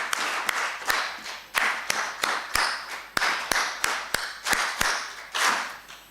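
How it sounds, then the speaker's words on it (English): Audience clapping in a counted rhythmic pattern for panelists at a World Radio Day event, a series of sharp group claps in short bursts, close and fairly loud, with no talking. "Let's give a 5 factorial clap for them."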